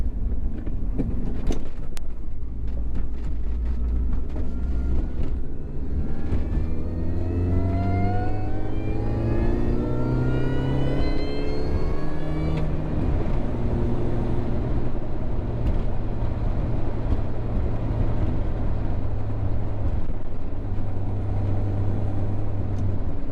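A Mini car drives and accelerates on a highway, its engine note climbing steadily through gear changes and then settling into a sustained steady drone, close and continuous with no talking.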